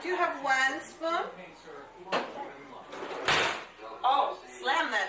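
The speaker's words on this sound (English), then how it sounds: "Oh, slam that door shut." A door, likely a kitchen cupboard, slams shut with a sharp, loud bang between stretches of close adult speech, preceded by a fainter knock.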